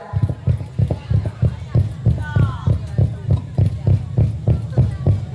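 A preacher vocally imitates a horse's galloping hooves during a Maulid sermon in Aceh, a steady rapid clip-clop rhythm of mouth clicks repeating throughout, loud and close, with a brief higher whistling or whinny-like voice sound in the middle.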